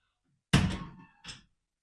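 The door of an electric convection oven with ten pans swings open with one close, solid thunk, followed by a shorter clack, and nothing else heard.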